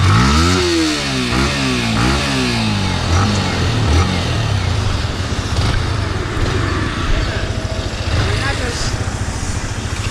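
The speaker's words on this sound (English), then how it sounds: "So now we'll be seeing the exhaust note for this." A Yamaha MT-15 motorcycle exhaust revving in quick rising and falling bursts, then settling into a steady, throbbing idle nearby.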